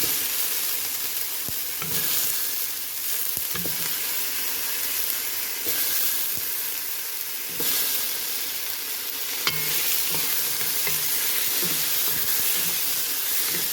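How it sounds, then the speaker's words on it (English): Tomatoes sautéing in a pot for chicken and vegetable soup, a loud continuous sizzle and hiss with occasional stirring knocks and scrapes, no talk. "So we're just gonna saute that"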